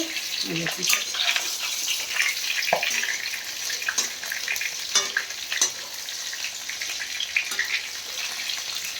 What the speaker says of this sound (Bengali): এরকমভাবে সিম করে এরকমভাবে আস্তে আস্তে ভাজতে হবে